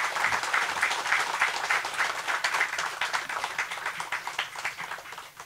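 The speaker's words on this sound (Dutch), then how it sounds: "Mag ik een applaus voor de president en de vicepresident?" A small outdoor community gathering at a Kabalebo bakery opening applauds the president and vice president. The steady, moderately distant clapping from a modest crowd lasts the full few seconds without letting up.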